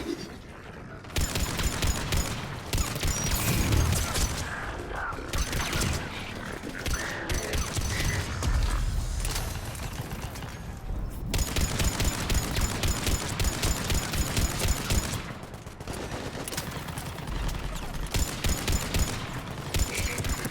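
Sustained bursts of Mattock rifle fire from Mass Effect 3, loud and close, rattling in rapid repeated volleys with brief pauses, layered over busy game combat noise.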